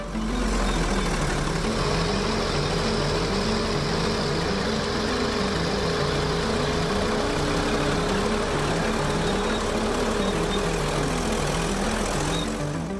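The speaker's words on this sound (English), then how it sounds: "D6R are legendary bulldozers known as the world's largest plowing fleet." A Caterpillar D6R bulldozer, a 40-ton machine of up to 650 horsepower plowing hard-packed fields, runs with a steady, loud, low diesel rumble that holds constant throughout.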